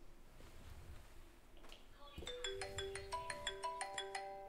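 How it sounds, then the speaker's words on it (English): A mobile phone rings with an incoming DSS intercom call from a door station, sounding a bright repeating electronic ringtone that starts partway through after faint background noise and continues in a steady pulsing pattern. "You can hear that at the moment my phone is ringing"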